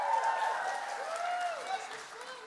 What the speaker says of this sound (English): an applause for our lovely choreographers, Shrishti and Avantica